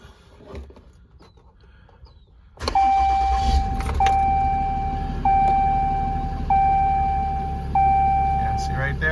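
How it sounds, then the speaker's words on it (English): A Dodge 5500 truck engine cranks and fires into a loud, steady idle after a quiet lead-in, with repeated warning chimes sounding over the running engine. "Start the truck"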